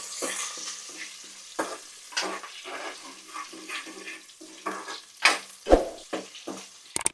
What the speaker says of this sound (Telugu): ఇది ఫ్రై అవ్వాలి. ఇది పచ్చిమిరపకాయ గింజలు చెదురుతాయి